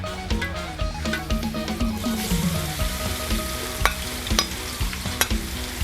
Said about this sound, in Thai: ใส่กระเทียมลงไปทอดเลยค่ะ